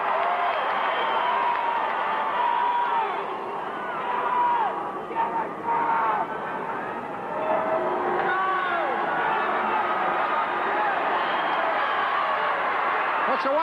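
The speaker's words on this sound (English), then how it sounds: "Crowd is saying, do it, man." A large wrestling arena crowd at a Stampede Wrestling match between Owen Hart and Razor Ramon roars continuously with shouts, whoops and cheering, a dense steady wall of voices throughout.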